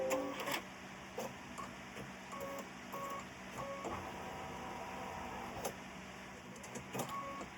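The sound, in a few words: embroidery sewing machine stitching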